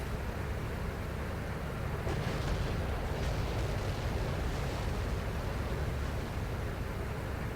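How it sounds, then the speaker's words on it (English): Distant explosions in the tank simulator game Steel Beasts thud and rumble over a constant roaring background, with several muffled blasts spaced across the stretch. "I hear explosions."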